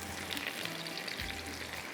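Chopped onions frying in a pan while being browned for a Baba Ganoush dish, a steady soft sizzle and crackle running evenly throughout with no voices.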